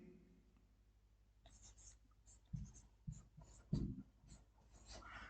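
Marker or chalk writing a times table on a board during a programming lesson, a few scratchy strokes and taps after a quiet start, fairly faint, with soft whispery speech in places.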